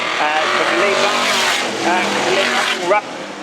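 Stock cars at Arlington Stadium thunder down the back straight, a loud continuous engine roar with rising and falling revs as cars pass close, and a sharp burst near the end, with a commentator talking over it.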